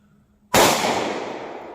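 A single loud, sharp gunshot from a short-barrel 9mm firing a Nosler 124-grain round into ballistic gel follows a brief quiet moment, then trails off in a long decaying echo.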